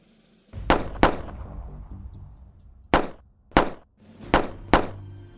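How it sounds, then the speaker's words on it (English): Sharp, loud gunshot-like bangs, six separate reports spaced irregularly with short decays between them, heard alone without voices. "you may not recognize the sounds for what they are: gunshots"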